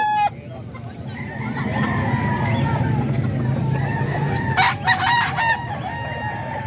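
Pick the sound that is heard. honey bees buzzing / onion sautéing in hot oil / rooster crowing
rooster crowing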